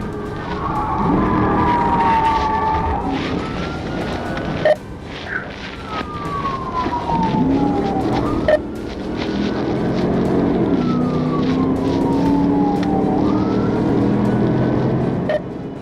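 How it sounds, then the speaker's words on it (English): A police car siren wails and yelps in sweeping tones over road noise during a high-speed pursuit, loud and close throughout. "activated lights and sirens to initiate a stop"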